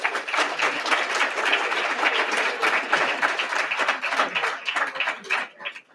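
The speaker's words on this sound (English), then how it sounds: "So let's give them a round of applause as well." Audience at an awards ceremony applauding with dense, steady clapping that holds for several seconds and starts to fade at the end.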